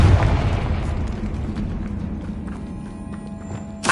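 A Confringo blasting spell in a Harry Potter video game sets off a loud, booming explosion that rolls out into a decaying rumble with scattered crackles. A fresh burst comes in at the very end.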